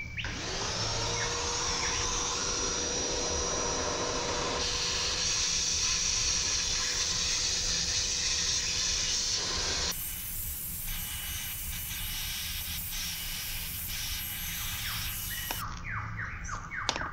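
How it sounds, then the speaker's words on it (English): A vacuum cleaner runs across a floor while cleaning up after an Aphaenogaster longiceps ant colony, giving a steady, loud whooshing hiss that continues throughout with a slight change in tone partway through. "give the floor a quick vacuum"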